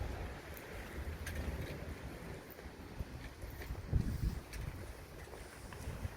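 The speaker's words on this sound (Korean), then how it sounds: "바람 많이 분다" Strong wind gusting outdoors near water, a steady broadband roar with rumbling microphone buffeting that swells around the middle, moderately loud and continuous with no talk.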